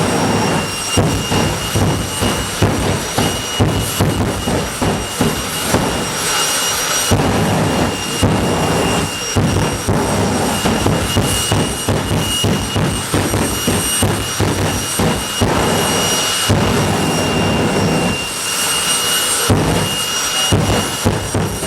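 The Fire Force 3 jet-powered funny car dragster roars at full blast down the Santa Pod quarter mile, loud and continuous, with crackling, pulsing bursts over a deep rumble throughout, no talking.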